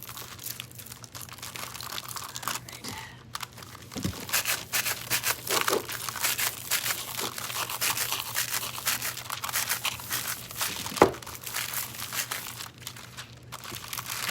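A brush passes over broken, crumpled colored foil on a candle craft piece, making continuous close crinkling and crackling with a few sharper taps.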